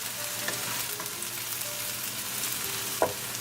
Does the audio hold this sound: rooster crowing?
no